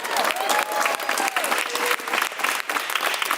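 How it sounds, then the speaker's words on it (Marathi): Dense, steady applause from a studio audience for Tanvi Kolte on the Marathi reality show Bigg Boss, with loud, continuous clapping filling the whole stretch and faint whoops rising above it. "चला तन्वीसाठी टाळ्या वाजूया आपण."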